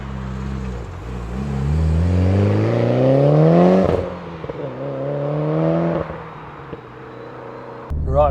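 A modified, imported Mitsubishi Evo IX wagon accelerates hard on a country road, its engine note climbing through the gears in loud rising sweeps, with a brief lift between shifts before revving up again.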